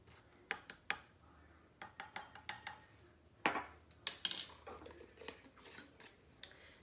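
A measuring spoon scoops from a jar for a Caesar salad dressing with a series of quiet, close clicks and light metallic clinks, spaced irregularly, with a brief rustling scrape midway and no talking.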